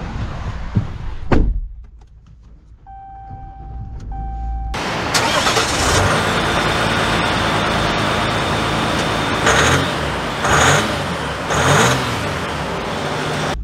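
A 2023 diesel pickup, either a Ram 1500 EcoDiesel or a Chevy Silverado 1500 Duramax, cranks and fires up after a faint chime, then settles into a loud, steady idle with a couple of brief revs.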